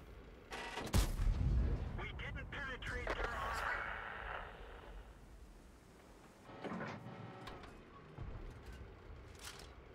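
Gunfire strikes a tank in a World of Tanks-style battle, with sharp loud impacts early on followed by softer rumbling hits and later scattered bangs, all under continuous game ambience.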